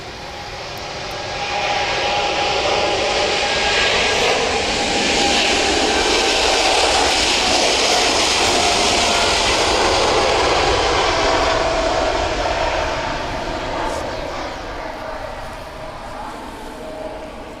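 A Malta Air jet airliner fitted with Ryanair winglets passes by, a loud broadband engine roar that swells in after a second, holds steady for about ten seconds and then slowly recedes.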